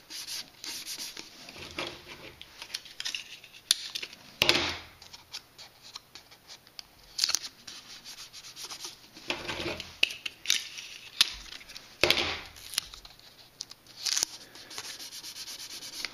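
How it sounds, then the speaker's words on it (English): Tape pulled and pressed along the edge of a paper rocket, heard close as scattered rubs, crinkles and sharp tearing bursts with short pauses between them. "I'm going to put tape all the way down the edge"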